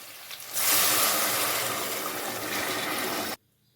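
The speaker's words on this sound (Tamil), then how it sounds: "எல்லாமே நல்லா வணங்கிச்சு தண்ணி சேர்த்துக்கலாம்" A steady rush of water pours into a pot of sautéed drumstick leaves and vegetables for about three seconds, close and fairly loud, then cuts off abruptly.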